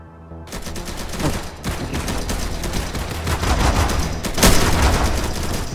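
Dense continuous gunfire in a Roblox zombie game, rapid overlapping shots forming a steady loud barrage that starts abruptly and swells toward the end, with no talking over it.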